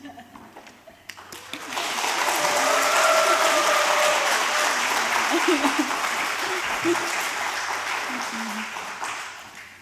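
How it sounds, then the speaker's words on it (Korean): Church congregation applause at an afternoon worship service welcoming a missionary, swelling within two seconds into a loud, sustained roar of clapping with some voices mixed in, then easing slightly toward the end. "지금 박수의 딱 2배 크기로 한번 환영하겠습니다"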